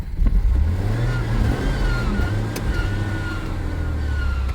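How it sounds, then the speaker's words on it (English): A car engine needing new spark plugs runs steadily with a low, uneven rumble, idling roughly up close for several seconds without any talk. "Oh, she's still idling funky"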